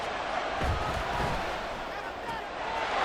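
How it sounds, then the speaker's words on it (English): A stadium crowd at an NFL game, heard in a football video game, roars and cheers as a steady, broad wash of noise, with occasional thuds in the mix. "this crowd gets out making some noise"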